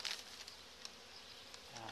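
Honeybees buzz on a hive frame in a steady, close drone, with a few faint knocks and a sharp rustle near the start.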